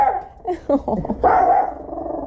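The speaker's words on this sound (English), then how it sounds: "He'll bark at you, but he doesn't bite." Dog barking indoors in a house, a few short barks mixed in with a person talking nearby.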